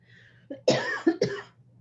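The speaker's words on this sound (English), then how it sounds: "I'm sorry about the coughing today" A few harsh, close coughs in quick succession, with a short pause before the last burst, against a quiet background.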